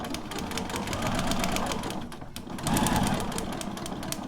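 Sewing machine stitching along a printed line on a quilt block, a steady close mechanical whir running nearly the whole time with a brief pause midway.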